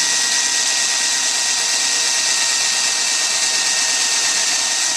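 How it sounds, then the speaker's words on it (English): A power drill bores through embossed metal and on into a workbench, giving a loud, steady, high-pitched whine that holds unbroken from start to finish, close up with no speech. "Obviously, you can tell that I just drilled right into my workbench"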